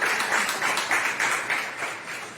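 A church congregation applauds, with dense, continuous clapping from many hands at a moderate distance that swells and fades slightly and then tapers off.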